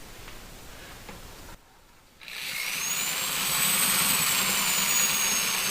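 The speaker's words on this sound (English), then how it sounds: "when it's attached to a drill, these blades here open up and then it spins it and then it really circulates" A power drill spins a bladed mixing attachment in a batch of fruit concentrate wine, a steady whirring drone that cuts out briefly, then restarts and builds to a louder, sustained whine.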